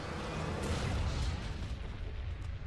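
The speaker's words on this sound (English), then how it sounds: "Oh, we got a double explosion?" Explosive blasts in a competitive video game match, heard as a loud, dense, rumbling burst with sustained low boom lasting the whole moment, no speech over it.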